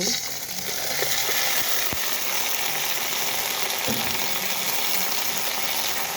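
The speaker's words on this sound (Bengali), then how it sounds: "এখানে দিয়ে দেখে হালকা একটু হলুদ গুঁড়া ডিমগুলো হালকা একটু ভেজে নিচ্ছি" Eggs frying in oil with a pinch of turmeric powder make a constant close sizzle, with a couple of light utensil taps near the start and again toward the end.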